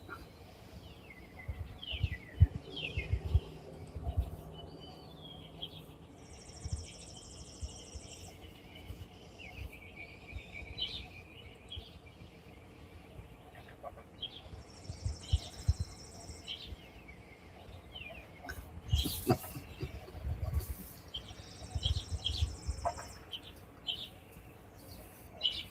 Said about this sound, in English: The birds are in the gutters again.